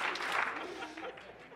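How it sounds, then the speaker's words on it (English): An audience in a conference hall gives a brief burst of clapping, and the applause quickly fades into faint room murmur. "If you hear my voice, clap twice."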